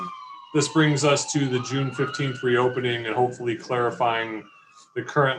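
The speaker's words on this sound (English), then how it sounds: "Excuse the sirens as they're going down the street there." Emergency vehicle sirens wail down a street outside, rising and falling steadily beneath a man's continuous, close speech at a city council meeting.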